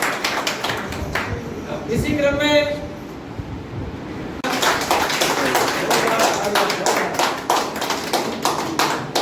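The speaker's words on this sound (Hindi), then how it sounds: "जोरदार तालियों से स्वागत किया जाए।" Applause from a crowd welcoming newly elected district party officials at a BJP mandal event in Khudala Falna, with rhythmic clapping that runs through the clip and a voice speaking over a public address system.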